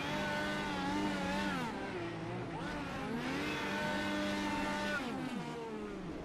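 Race car in the iRacing video game doing donuts on the start-finish straight at Kansas, its engine revving up and down in sweeping pitch arcs, fairly close and continuous with no talking.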